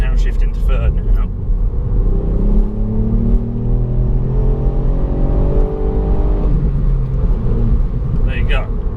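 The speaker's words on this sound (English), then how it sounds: "if we put it into sport mode, you should hear the exhaust note change a little bit" A 2019 Ford Fiesta ST in sport mode pulls through the gears, its exhaust rumbling and rising in pitch, dropping at the shift into third, with someone talking over the engine noise.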